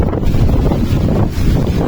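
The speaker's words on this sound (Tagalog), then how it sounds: "Nilakas ang hangin." Steady, loud wind buffeting the microphone, a constant low rumbling roar with no gaps and no voices.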